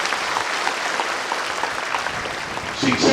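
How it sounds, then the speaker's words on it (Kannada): Applause from an audience at a student merit award ceremony in Mandya, a steady broadband patter of many hands lasting the whole stretch, with a brief voice near the end. "ಅವರಿಗೆ ದೊಡ್ಡ ಚಪ್ಪಾಳೆಯನ್ನ ನೀವು ಹೊಡಿಬೇಕು."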